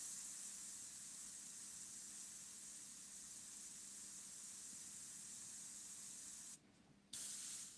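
An airbrush sprays paint for a macro cat's eye and fur painting, giving a steady, close hiss that runs almost the whole time, then briefly drops and surges back near the end as the air is turned down.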